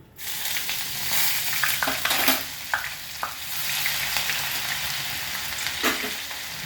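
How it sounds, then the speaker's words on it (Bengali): Grated ginger fries in hot oil in a pan with bay leaf and spices, giving a steady, close sizzle with a few stirring scrapes and clinks and no voices. "এবার আমি 1 চামচ গ্রেট করা আদা দিলাম।"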